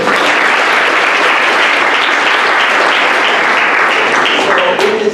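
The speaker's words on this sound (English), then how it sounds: "Round of applause for that wonderful introduction." Loud, sustained audience applause fills a high school auditorium, dense and steady throughout before tapering slightly at the end.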